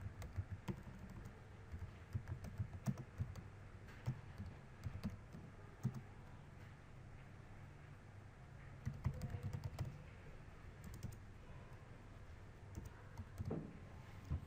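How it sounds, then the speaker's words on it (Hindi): Someone types data entry on a computer keyboard, producing quiet, steady clusters of close keystroke clicks with brief pauses between bursts. "ये मैंने टाइप किया।"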